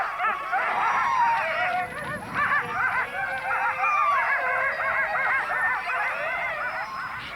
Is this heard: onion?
no